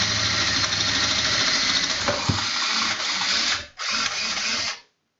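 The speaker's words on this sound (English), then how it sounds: "I'll just grab my step bit right after I drill it out" A power drill with a step bit whirs steadily at close range, grinding through metal, briefly pausing before a final burst and then stopping.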